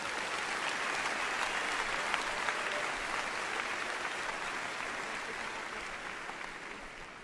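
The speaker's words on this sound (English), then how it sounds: "Let's give them one more round of applause, please." A high school graduation audience applauds the a cappella choir: a broad, even wash of many hands filling a large hall, soft and steady throughout and easing slightly at the end.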